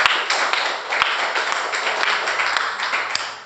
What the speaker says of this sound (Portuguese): E aqueles que recebem, aplaudam o Senhor Jesus.